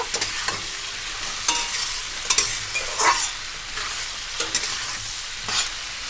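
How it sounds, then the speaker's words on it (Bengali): Chopped onion and tomato stirred and frying in a pan for a Bengali tengra fish jhal, with a steady sizzle and several scraping stir strokes at irregular intervals, close up and alone without talk. "হালকা একটু নাড়াচাড়া করে নিয়েছি"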